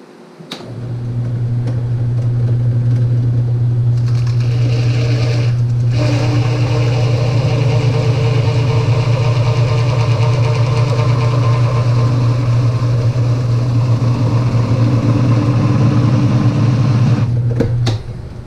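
A power tool cuts a hole through a plastic brake booster spacer for a 1964 Thunderbird, a loud, steady high-pitched whine running unbroken for about sixteen seconds before stopping.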